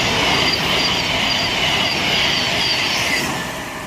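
Thameslink Class 700 unit 700 030 passes through Elstree & Borehamwood station on the Midland Main Line, a loud close rushing rumble with squealing wheel tones, easing slightly toward the end.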